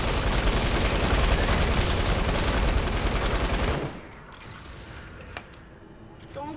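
Rapid gunfire bursts from the video game Fortnite dense and loud for the first few seconds, then cut off to quieter background with a few isolated clicks and pops.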